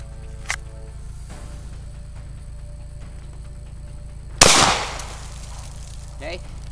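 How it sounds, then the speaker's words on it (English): A single sharp handgun shot cracks out at close range during firearms grip training, a loud sudden report that decays quickly against a quiet steady background hum. "I'm gonna fire the gun"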